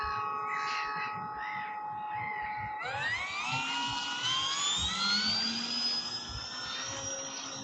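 A small FMS Super Cub 1300mm RC floatplane motor whines steadily, then revs up to a higher, louder pitch and holds there, buzzing continuously.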